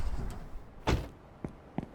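A car door thuds shut as the player climbs out of a parked car in Streamer Life Simulator, one sharp closing impact followed by a couple of smaller clicks against quiet room tone.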